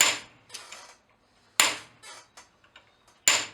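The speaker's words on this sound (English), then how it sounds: "you're just using it like a controlled hammer blow is all you're doing" A hammer strikes a small round punch on metal while making rosette rivets at a blacksmith's bench, with three sharp ringing blows and a few lighter taps between them, close and alone.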